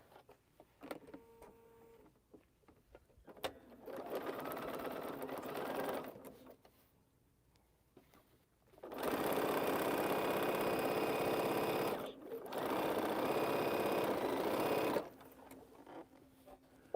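A sewing machine with a 97D foot stitches a quilt seam, running in several sustained bursts with pauses between, steady and close.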